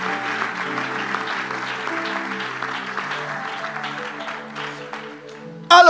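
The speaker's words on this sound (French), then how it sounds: "on acclame pour le Seigneur et on va décoller" A French church congregation applauds and cheers for the Lord: steady, sustained clapping mixed with voices across the whole stretch, fairly loud, ending in a brief sharp burst.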